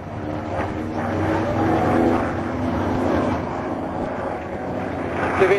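A large aerobatic airplane drones overhead at an air show, its engine holding a steady, fairly loud hum with gentle swells across several seconds, over outdoor crowd ambience.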